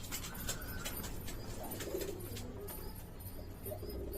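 Pigeons in a loft in Yeshwanthpur give soft low coos amid a busy, constant wash of bird and room noise, several calls overlapping at a moderate distance.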